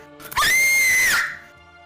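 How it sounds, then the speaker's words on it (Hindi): A man lets out one loud, sustained, strained scream for about a second as a horror story sound effect, rising sharply, holding, then trailing off into a faint background drone. "वह बड़े ही भयानक तरीके से चिल्ला रहा था"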